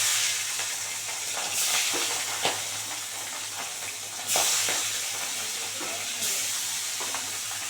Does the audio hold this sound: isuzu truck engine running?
no